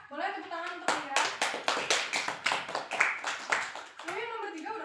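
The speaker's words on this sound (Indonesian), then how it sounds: "Boleh tepuk tangan untuk akhiran." A classroom group claps together in a steady burst of applause lasting several seconds, with voices murmuring at the start and end.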